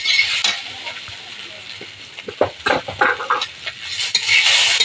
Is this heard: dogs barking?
no